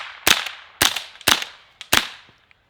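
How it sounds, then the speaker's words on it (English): A .22 LR rifle firing at a Halloween pumpkin outdoors, four sharp loud cracks at uneven intervals, each with a short decaying echo, and a faint fifth pop at the end. "I'm gonna go back to the left and see if I can't shoot that middle out."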